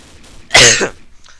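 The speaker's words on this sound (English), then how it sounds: "Waiting for that cough." A single sharp cough rings out close by in an otherwise quiet moment.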